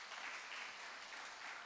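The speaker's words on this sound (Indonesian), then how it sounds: "Kasih tepuk tangan buat Hizkia dong." An audience at a live church service in Surabaya applauds Hizkia with steady, even clapping that fills the room at a modest level and never stops for the whole stretch.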